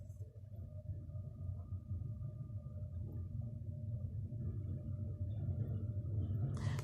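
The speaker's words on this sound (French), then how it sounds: "Je suis désolée pour le train, mais j'habite en face d'une gare de train" A train passing near a railway station, a low continuous rumble that stays faint and distant, building slightly louder toward the end.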